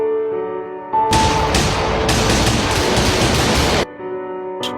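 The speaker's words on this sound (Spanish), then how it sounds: "los disparos retumbaron en mis oídos" A dense, booming burst of gunfire roars for about three seconds, loud and continuous, with a quieter tonal hum before and after.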